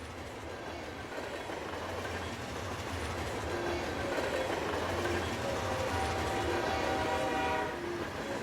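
A train rolls along the rails with a steady rumbling drone, while faint tonal squeals and whines rise and fade over the noise.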